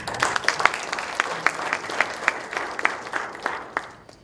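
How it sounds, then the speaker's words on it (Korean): Scattered applause from a modest audience at a symposium on preventing environmental pollution in FDA-designated Korean waters, honoring a legislator. The claps are distinct and uneven, with loud individual hits standing out, and the applause thins toward the end. "많이 우리 도움을 계시는 우리 김영권 의원님께 박수 한번 쳐주시죠."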